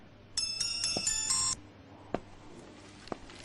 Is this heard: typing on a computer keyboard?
no